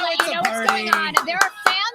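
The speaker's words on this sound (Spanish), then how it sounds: "Un aplauso a Victoria Alonso" Fans clap at a film premiere red carpet, with a handful of distinct, fairly close hand claps ringing out while a voice speaks over them excitedly.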